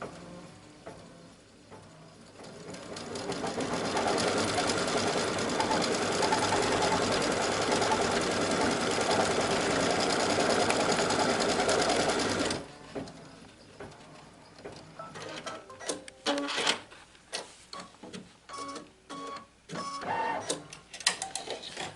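An embroidery machine stitches the outline of a felt applique onto cutaway stabilizer for a badge reel, a steady loud mechanical whirr for about twelve seconds that stops, followed by quieter handling clicks and knocks.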